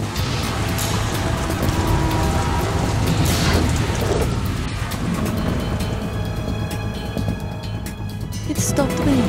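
Heavy rain hisses and drums in the Metal Gear Solid 2 game while low thunder rumbles underneath, the downpour thinning toward the end; a voice speaks over it briefly.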